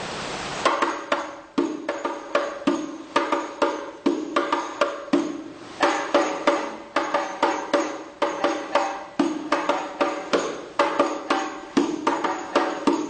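Hadroh frame drum rising strokes, a steady run of sharp hand strikes in a repeating pattern, close and loud with no talk.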